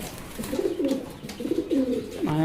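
Fancy racer pigeons coo close by in a series of soft, rolling calls, several overlapping phrases repeating over a low background.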